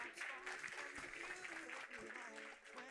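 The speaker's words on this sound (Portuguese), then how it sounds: "que merece uma grande salva de palmas" Applause from a conference audience at Smart Customer 2024 for the event sponsors, a steady wash of clapping running under a presenter's voice throughout.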